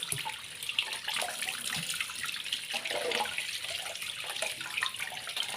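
Guava leaves rinsed under running tap water, a steady splashing, gurgling stream at close range with no speech.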